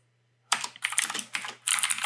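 Quick typing on a computer keyboard as command lines are entered in a terminal: a close, crisp clatter of keystrokes in two bursts after a short silence, with a faint low hum underneath.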